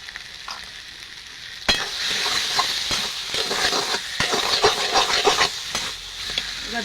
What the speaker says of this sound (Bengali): এবার এটা নাড়াচাড়া করে রান্না করে নেব